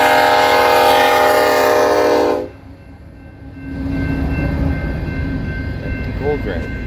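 A westbound freight train passes Pacific Junction with a loud, sustained horn blast that cuts off abruptly, followed by the steady rumble and rolling clatter of the passing cars. A horn echo sounds faintly near the end.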